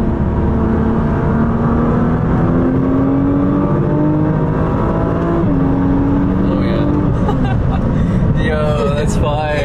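A Nissan GT-R R35 accelerates hard on a wet road, its engine droning loud and close with rising pitch through gear changes, while someone speaks briefly near the end.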